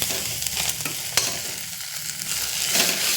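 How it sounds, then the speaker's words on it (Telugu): Moringa leaves with freshly added tomatoes fry in a pan, making a steady close sizzle with a few sharp utensil knocks and stirring scrapes, and no one speaking. "ఇప్పుడు కొంచెం వేగింది కదా టమాటాలు కూడా వేసేద్దాం దీంట్లో"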